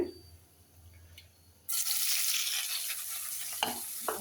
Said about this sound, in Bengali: হলুদ মরিচগুলো একটু কষাই নিয়ে এভাবে করে দেব